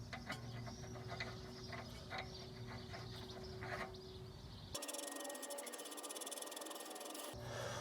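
Quiet mechanical clicking comes from tightening the nut on a VW Golf 7 ball joint, with a run of rapid ratchet-like ticks, then a brief pause before the clicking resumes.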